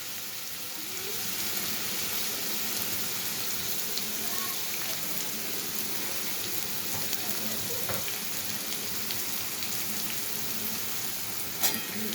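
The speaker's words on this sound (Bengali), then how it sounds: "গাজর আর ক্যাপসিকাম দিয়েছি" Carrot and capsicum stir-fry in a pan with a soft, continuous sizzle and occasional faint scrapes of a spatula, fairly quiet and steady throughout, ending in a brief clink.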